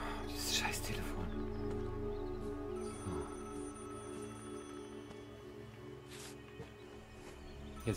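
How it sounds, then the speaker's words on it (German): In the online shooter Vigor, a telephone rings with a thin, steady electronic tone that sits quietly beneath low background noise and a few scattered clicks. "Dieses scheiß Telefon."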